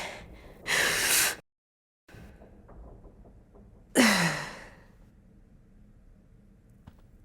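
A character in The Walking Dead video game, final season, breathes deeply as a calming exercise: two loud, breathy exhales or gasps separated by a brief silence, followed by quieter breathing in a close, intimate setting.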